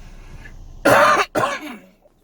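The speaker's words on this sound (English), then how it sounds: "That was just a regular cough." A single regular cough from a man standing inside a store, close and loud, broken into two harsh bursts with a short gap, set against quiet background.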